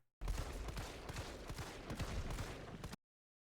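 Rapid handgun fire during a Resident Evil 3 Remake boss fight against Nemesis, a dense barrage of sharp game shots with impact noise running continuously for nearly three seconds, loud and close, with no talk.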